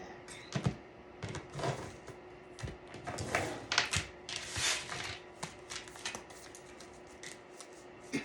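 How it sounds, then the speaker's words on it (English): Tarot cards being cut and handled, a run of soft papery riffles, slaps and taps scattered irregularly across the stretch, fairly close with no talking over them. "so we'll just cut the deck"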